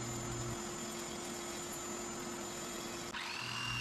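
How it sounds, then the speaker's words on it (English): A die grinder smooths the jagged live edge of a Claro walnut slab for a coffee table, giving a steady, close, high whine that shifts pitch briefly near the end. "Following the chisels, I then came back with a die grinder to clean up the jagged edges."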